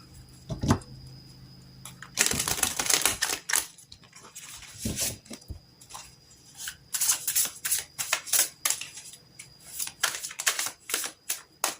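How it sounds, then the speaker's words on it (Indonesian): Tarot cards shuffled and laid down by hand, close up, with a steady stream of crisp papery riffles, flicks and soft slaps coming in uneven bursts and short pauses, no voice over them. "kita buka kartu tarot satu lagi"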